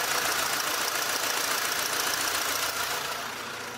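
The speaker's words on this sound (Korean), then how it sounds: "엔진 소음 먼저 들려드리면은" A BMW 520i 5 Series, fifth generation, with about 80,000 km on it, idles steadily with a smooth, even engine hum. It sounds close and constant, with no talking.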